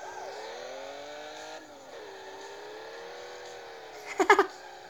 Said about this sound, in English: Look at them drifts.